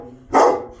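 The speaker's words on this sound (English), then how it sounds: "Stop barking!" A single sharp dog bark, loud and close, after a brief quiet moment.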